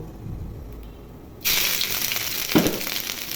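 Grated ginger drops into a hot pan of frying puffed rice, setting off a sudden loud sizzle after a quiet start, holding as a steady crackling hiss with a brief clatter near the end.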